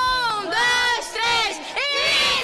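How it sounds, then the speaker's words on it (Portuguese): School sports supporters at a student games event in Amazonas shout their team battle cry, a loud, close crowd of young voices chanting in rising and falling waves. "Como é que faz aí o grito de guerra?"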